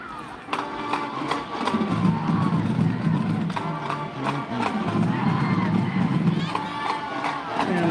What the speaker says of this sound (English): Home crowd is celebrating.